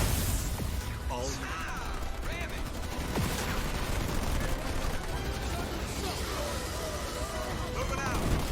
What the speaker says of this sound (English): I'm under fire from ground troops